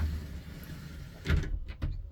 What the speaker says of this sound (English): close the sliding door